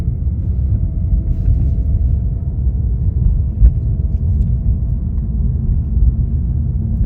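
Steady low engine rumble from inside a car driven by a learner on a first day of driving lessons in Calgary, a continuous loud drone with a single brief knock midway and no talking.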